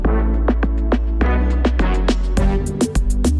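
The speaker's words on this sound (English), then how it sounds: "And then I just have a filter sweep on it." A resampled loop in a soca riddim breakdown runs under a filter sweep, rhythmic percussive hits and tonal stabs over a steady bass, the brightness rising as the filter opens, with no talk.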